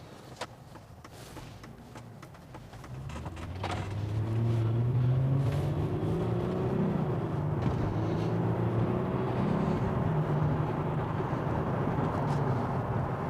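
A Mercedes CLK 350 accelerates to 60 mph at half throttle with its gearbox in comfort mode, shifting at 4,000 rpm. The engine drone starts low and quiet, swells at about four seconds and holds a steady, rising rumble with tones stepping through the gears.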